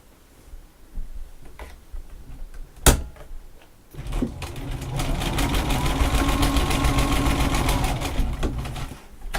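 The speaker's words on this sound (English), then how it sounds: "And then I'm going to go ahead and sew it." A sewing machine stitches an 18-inch witch doll fabric panel, first with a few brief bursts and clicks, then running in a steady close mechanical whirr with rapid needle ticking for several seconds.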